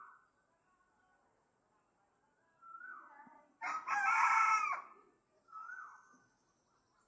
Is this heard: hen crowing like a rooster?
yes